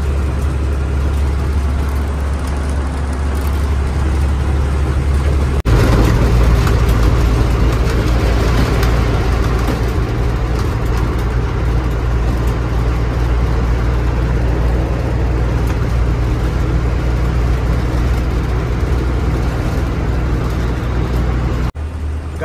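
A heavy vehicle engine labouring up the Mumbai ghat section road at midday, a loud continuous low drone with steady rumble and road roar that holds nearly unchanged throughout.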